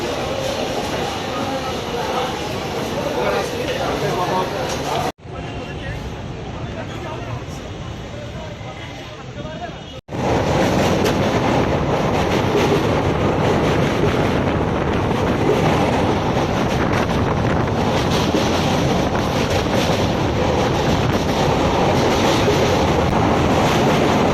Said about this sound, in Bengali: উত্তরবঙ্গ এক্সপ্রেস ট্রেন এখন ছেড়ে শিয়ালদা থেকে